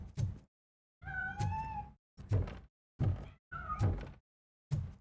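A cat in a video game crying out and scrambling as it escapes from inside a piano, heard as a run of separate close meows with soft thuds in the gaps.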